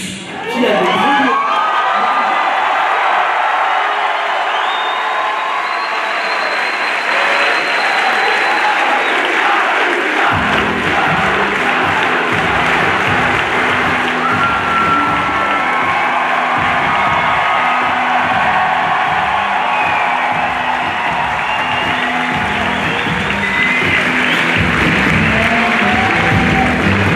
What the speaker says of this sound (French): Des tonnerres d'applaudissements venus du fond de la Moria pour le plus célèbre des nains.